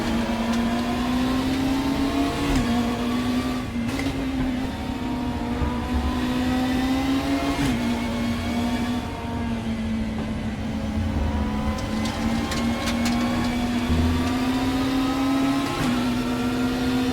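Race car engines drone and rev continuously in RaceRoom, a loud sustained whine rising and falling with gear changes and throttle lifts, close and alone without talk.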